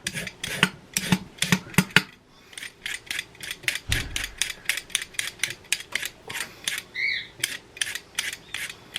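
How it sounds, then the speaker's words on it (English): Carrots peeled with a hand peeler for a Thanksgiving turkey dinner: close, rhythmic rasping scrapes in quick repeated strokes, steady throughout with a brief pause, no talking. "I'm gonna peel my carrots."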